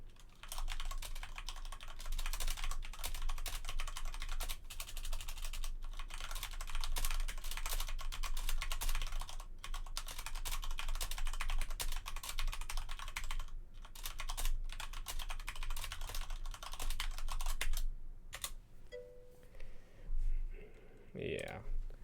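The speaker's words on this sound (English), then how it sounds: "I'll type it." Fingers typing on a computer keyboard during a level-building livestream for JOTB, a steady stream of close clicking keystrokes running under a busy background, with a brief pause near the end.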